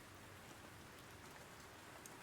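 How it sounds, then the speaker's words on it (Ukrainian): Steady rain pours through the night in a flower shop video game, a continuous dense hiss of drops on a surface, even and unbroken with no voices over it. "І що це дощ періщить посеред ночі?"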